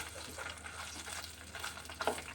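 Boiled chicken pieces fry in hot oil for a chicken pickle, giving a quiet, steady sizzle with soft crackles and one brief sharper pop near the end, with no talking.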